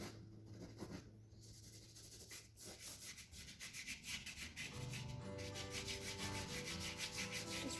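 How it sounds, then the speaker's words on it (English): Soft pastel rubbed and spread across paper in a landscape painting, giving a steady, close scratchy rubbing that continues throughout with no talk. "Rubbing this out and spreading it out a wee bit."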